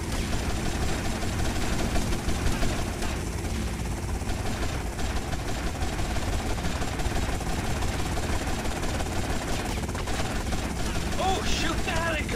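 A helicopter in the GTA Vice City video game gives a continuous whirring engine drone, with gunfire-like bursts mixed in and a voice talking over the noise throughout.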